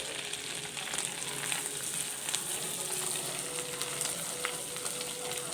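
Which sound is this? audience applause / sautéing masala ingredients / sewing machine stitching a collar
sautéing masala ingredients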